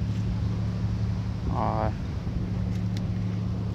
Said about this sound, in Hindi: हवा चल रही है बहुत अच्छी